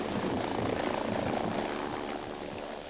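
Essex Air Ambulance helicopter lifting off, a loud steady rotor and turbine roar close by that eases slightly toward the end.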